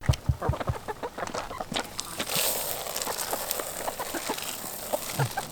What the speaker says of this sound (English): we got some chickens around the place